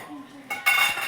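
Metal utensils clink while rice is tempered in a home kitchen, a quiet moment followed by a couple of sharp, close clatters of cutlery against a pot near the end.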